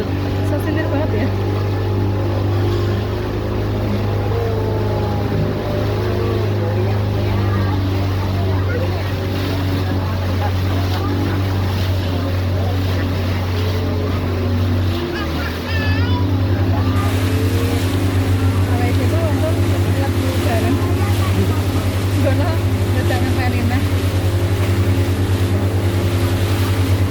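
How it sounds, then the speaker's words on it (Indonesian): A catamaran's engine hums steadily with a low drone over rushing water and wind buffeting the microphone. A person talks throughout, and the engine tone shifts about halfway through. "saat ini saya berada di atas kapal katamaran"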